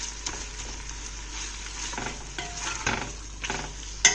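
Ginger and green chili frying with onions for a spinach and chicken curry, a gentle sizzle broken by stirring scrapes and a sharp utensil knock at the end.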